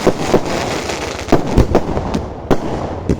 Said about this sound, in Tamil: இதை பாருங்கள், இந்த வெடியை ஒரு டிஃப்ரெண்ட்டாக வெடிக்குது.